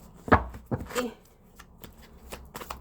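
A tall stack of cards being shuffled in short, sharp clacks and riffles, several separate hits spaced irregularly, close up and fairly quiet.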